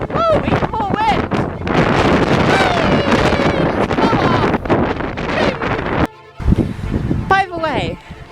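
Strong wind buffeting the microphone in outdoor botanic gardens, a loud continuous roar with gusty swells that drops out briefly, while a person talks excitedly over it.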